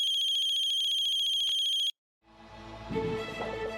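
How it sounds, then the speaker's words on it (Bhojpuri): A phone ringtone chirps in rapid, repeating electronic pulses for about two seconds, then cuts off abruptly before other, fainter sounds fade in. "कार्तिक के फोन।"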